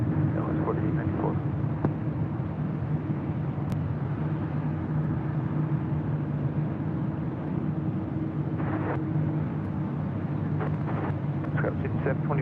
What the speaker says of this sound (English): heavy Airbus departing on the parallel runway